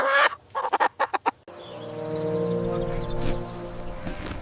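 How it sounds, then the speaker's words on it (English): Small brown farm chicken clucking, a quick run of sharp close clucks followed by a longer drawn-out, throaty cackle. "This is a small brown farm chicken."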